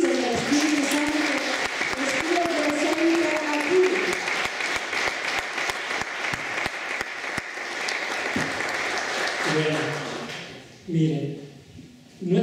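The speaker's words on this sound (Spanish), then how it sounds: "Vamos a darle un fuerte aplauso a Jesucristo y al Espíritu Santo." A church congregation at a Lenten spiritual retreat bursts into loud, sustained applause that fills most of the stretch, with voices mixed in beneath, then thins out toward the end as a speaking voice returns.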